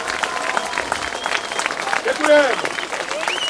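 An audience at a Czech clown and flying-wonders stage show claps in a dense, steady burst of applause, with someone speaking briefly over it.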